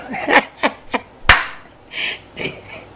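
A few sharp, close hand claps ring out in an uneven pattern, with soft breathy sounds between them.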